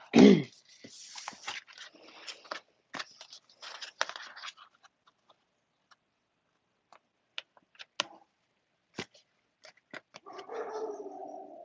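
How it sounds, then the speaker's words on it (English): A dog barks once, loudly and close, then small clicks and faint taps follow through a quiet room. "I heard that dog go"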